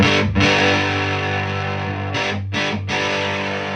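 Sustained electric guitar chords through an Octa Psi fuzz pedal set to low fuzz, ringing out with a couple of brief breaks between strums.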